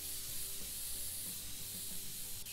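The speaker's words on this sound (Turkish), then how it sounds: "İnşallah sınırsızdır bu sprey." A spray can cleaning a PC case in PC Building Simulator gives a steady, broad hiss that stays fairly quiet and continues without a break, with faint rubbing beneath it and no voices.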